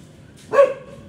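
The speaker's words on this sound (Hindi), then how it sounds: "गली के सारे कुत्ते परेशान हो चुके हैं, इनके चारों तरफ भौंकना शुरू।" A street dog gives a single short, sharp bark from close range against a quiet background.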